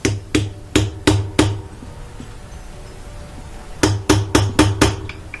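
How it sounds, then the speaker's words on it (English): A socket on an extension bar is tapped down onto a part of a Whirlpool washer that won't agitate or spin, sharp metallic knocks in two quick bursts of four and five, loud and close, with a quiet pause between. "Take my socket with the extension, tap it on there."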